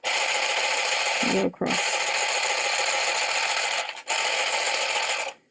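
A handheld sewing machine stitching through fabric gives a rapid, buzzing mechanical chatter in two close bursts with a short pause between them, while a voice speaks briefly over it.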